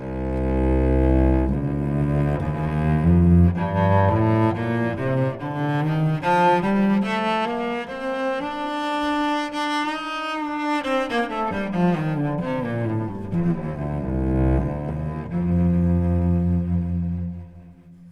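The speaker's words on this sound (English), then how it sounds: "that same F Mixolydian scale that I just played sounds like this" An F Mixolydian scale played on a fretted fingerboard instrument, individual notes climbing steadily in pitch and then descending again, plucked tones ringing clearly and alone over about eighteen seconds.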